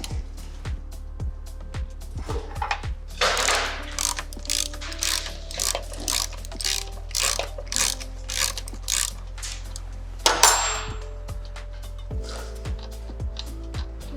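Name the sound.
removing front wheel axle nut with 10mm Allen wrench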